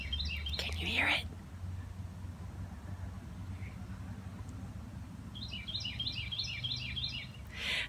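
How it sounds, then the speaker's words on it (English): Small birds chirp in quick bursts in the countryside, faint and distant, over a steady low rumble of a passing car or engine, with short twittering runs near the start and again near the end. "This is about the time of day that all the little birds love to come out."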